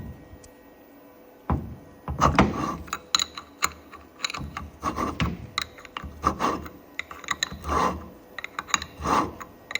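A used Delphi diesel injection pump is turned by hand with a wrench and gives rough, grinding ratchety clunks from worn rollers, coming as a series of uneven mechanical bursts with faint background noise.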